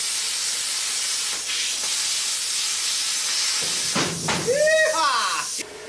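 A pilot arc plasma cutter torch with its guide removed runs as a steady loud hiss of air, then bursts into a harsher crackling, sizzling cut through scrap wire near the end, up close.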